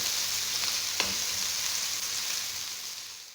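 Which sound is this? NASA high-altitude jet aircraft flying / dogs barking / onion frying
onion frying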